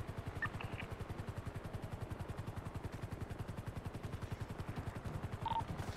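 A helicopter lands in a video game SWAT training match, its rotor thumping in a fast, even rhythm at a faint, steady level, with a couple of brief electronic beeps.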